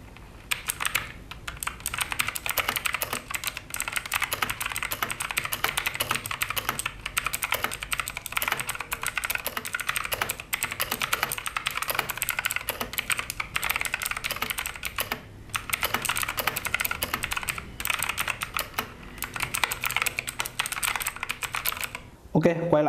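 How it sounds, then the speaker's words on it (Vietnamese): Steady, fast clicking of typing on a 2018 Fuhlen M87S mechanical keyboard with blue switches. The clatter is close and continuous for over twenty seconds, with brief pauses between bursts. "Bây giờ mình sẽ cho các bạn nghe thử cái đoạn gõ văn bản của mình trên phiên bản 2018, tức là phiên bản trước đây"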